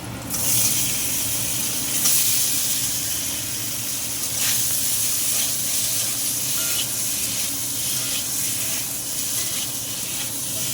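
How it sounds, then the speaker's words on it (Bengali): Paneer frying in hot oil in a pan, a dense, steady sizzling hiss that stays loud and close for the whole stretch with slight swells, and no voices. "তেল হয়ে গেছে, পনিরগুলো দিয়ে দিলাম।"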